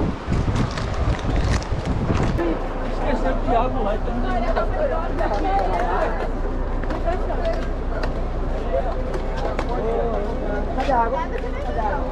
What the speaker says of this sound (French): qu'est-ce qu'il y a comme vent, quoi